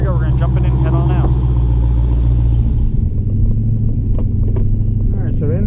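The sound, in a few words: 2017 Dodge Hellcat engine rumbling while driving off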